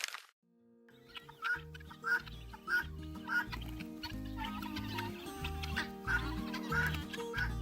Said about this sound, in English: the piercing calls of flocks of white-breasted Guinea fowl may make you think again